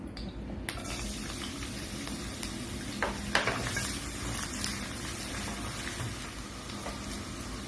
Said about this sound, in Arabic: هاي ملعقتين عندي دهن، راح اضيف البصل